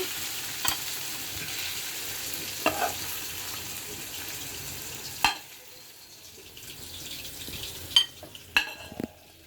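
Potato and flat bean bhaji with coriander fries in a pan, giving a steady close sizzle as it is stirred, with a few sharp clinks of a utensil against the pan and no talking.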